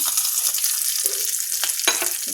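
Curry leaves hit hot tempering oil and crackle sharply, a busy close-up sizzle with a few louder spits and pops.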